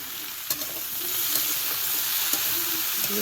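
Vegetables sauté in a pan with salt and turmeric for a Bengali mixed-vegetable curry, giving a steady close sizzle. Several sharp scrapes of stirring break through it.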